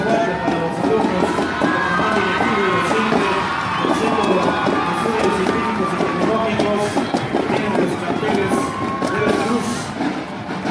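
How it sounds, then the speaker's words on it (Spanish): A large outdoor crowd at a street parade marking the 150th anniversary of the taking of the port of Veracruz cheers and claps in a steady, dense roar, with children's shouts and whoops rising throughout. "Un aplauso fuerte para los alumnos."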